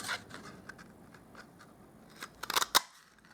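Scissors snipping paper offcuts for punch art: a few faint early snips, then a quick cluster of sharp, close cuts near the end.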